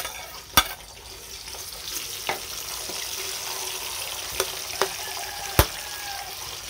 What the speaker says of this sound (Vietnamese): Chảo dầu nó đã nóng lên, chúng ta cho khoai tây và khoai cao vô.